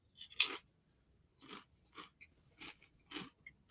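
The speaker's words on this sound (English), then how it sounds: "Oh, I hear the munching." A person munches food close to the microphone, a handful of crisp crunching bites spaced irregularly in quiet surroundings.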